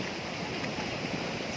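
Tirtosari waterfall at Ngadiloyo in Magetan Regency, Java, heard as a steady, dense roar of rushing water. The broad wash is continuous and moderately quiet, with no talking.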